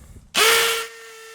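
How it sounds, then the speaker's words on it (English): A power drill suddenly spins up with a loud whirring burst, then settles into a steady high whine as it runs on briefly, boring a hole for a Tapcon concrete screw. "now you can drill your hole out for your Tapcon"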